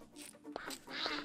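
A duck quacks in Minecraft, a few short nasal calls sounding fairly close against a quiet game backdrop with no talk.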